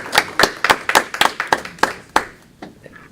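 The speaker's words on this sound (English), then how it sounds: "Yeah, they do deserve a clap." A small group clapping at a county commission meeting, about ten distinct, fairly loud claps in an uneven rhythm that thin out and stop near the end, heard close in a quiet room.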